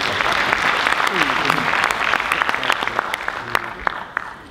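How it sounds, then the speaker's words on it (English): Warm round of applause from the audience at the opening ceremony of a freight forwarders' world congress, dense steady clapping with sharp individual claps standing out and some voices mixed in, near and loud throughout. "Please give Michael and his team a very warm round of applause."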